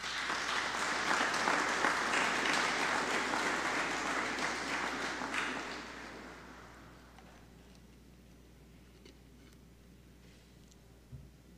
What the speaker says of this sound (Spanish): solo les pido un fuerte aplauso